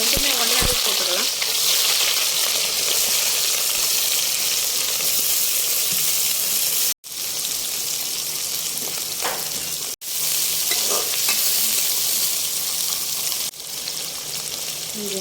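Cumin, shallots and onions frying together in a pan as prawn thokku begins, a loud continuous sizzle throughout with faint stirring scrapes and brief dips where the pan noise drops out.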